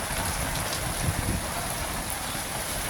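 Steady rain falling, a dense continuous hiss of drops on surfaces with no voices.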